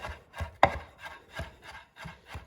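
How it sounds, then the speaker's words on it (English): A knife chops pancetta into small bits on a board with quick, rhythmic strikes, about three per second. One knock lands noticeably harder than the rest, and no one speaks. "I'm just going to really quickly chop it up into smaller little pieces that will be like little bacon bits"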